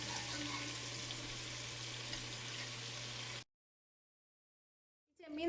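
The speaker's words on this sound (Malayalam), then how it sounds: "ചെമ്മീൻ രണ്ട് സൈഡും പതുക്കെ ഒന്ന് മൊരിഞ്ഞിട്ടുണ്ട്." Prawns fry in oil in a pan for a Kerala-style prawn roast, making a dense, continuous crackling sizzle close up that stops abruptly and is followed by silence.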